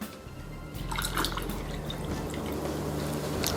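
Pineapple juice pours into a cocktail glass as a steady, close liquid stream with light splashing and dripping, running continuously for a few seconds without talk.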